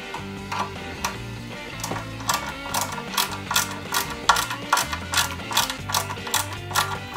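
Small screws are driven into an Alpine A110 1600S scale model car, giving a rapid, rhythmic ratcheting click that repeats in regular bursts, close and clear with no talk.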